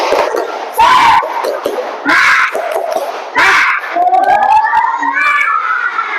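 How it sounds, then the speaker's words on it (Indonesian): Primary school pupils in a classroom chant and clap a rhythmic 'tepuk semangat' spirit cheer together, loud bursts of voices and claps repeating in short sections. "Mari kita tepuk semangat."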